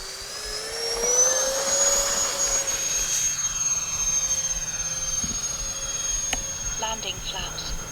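An FMS A-10 Thunderbolt RC jet takes off from thick grass, its ducted-fan engines producing a loud, steady high-pitched whine that rises in pitch and then fades slightly as it departs; brief talk from people nearby.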